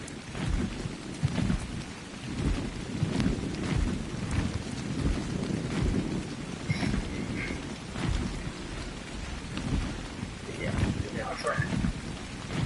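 Steady rain with rolling thunder in the survival video game Ark, a dense continuous wash with low rumbles swelling throughout, heard under a person talking.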